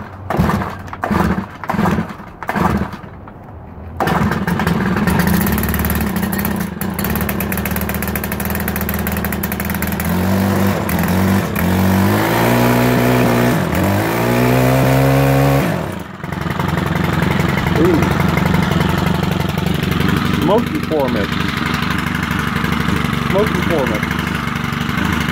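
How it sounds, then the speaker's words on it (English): An old Stihl string trimmer is pulled several times with short rattling cranks, then its small two-stroke engine fires and runs loud and close, idling and revving up in rising bursts before settling; a voice is briefly heard over it. "it's a good idea to hold the throttle down when you're starting it"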